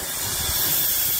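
Steady steam hiss from the draft valve on a wood-fired steam engine boiler, drawing air up through the firebox; a continuous, close, even broadband rush lasting just over a second with no voices.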